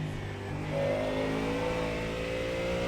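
A Ford Mustang GT3 race car engine revving in the iRacing video game, a steady, loud, close engine drone that rises slightly in pitch and holds under load, with no talking.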